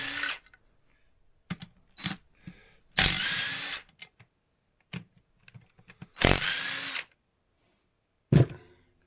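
A power tool buzzes in short, loud bursts, separated by quiet gaps and small clicks, as it backs out the engine case bolts on a vintage Polaris XLT 600 triple snowmobile.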